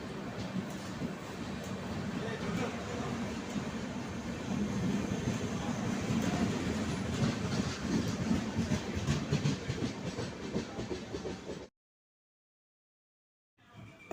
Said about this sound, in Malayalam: നമ്മുടെ പ്ലാറ്റ്ഫോം നമ്പർ 3ൽ 13352 ധൻബാദ് എക്സ്പ്രസ് ഇതാ വന്നിരിക്കുകയാണ്.